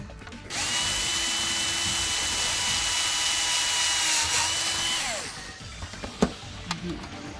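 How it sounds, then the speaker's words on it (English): Power drill boring holes into a Nerf Longshot blaster whines at a steady pitch for about four and a half seconds, then spins down and gives way to a few sharp clicks and handling sounds. "we don't want to drill too many holes in our beautiful Longshots"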